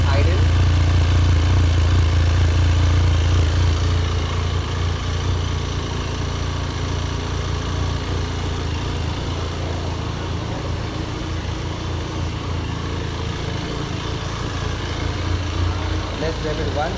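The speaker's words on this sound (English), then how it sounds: "So this is how it is the engine when it's idle." A Benelli TRK 502 BS6 motorcycle idles close by, a steady low rumbling engine note running evenly throughout with no revs.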